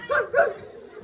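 Two quick yappy woof sounds from children's voices imitating a dog barking, close and loud, followed by a short quiet tail.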